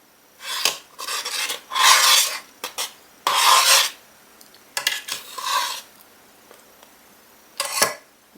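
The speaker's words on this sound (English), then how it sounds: "I'm gonna be randomly stirring it because I don't want any of the sugars to settle on the bottom of this pot" A spoon scrapes and stirs strawberry jam at a rolling boil in a pot, giving several distinct rasping strokes of uneven length separated by brief pauses, close and fairly loud with no talking.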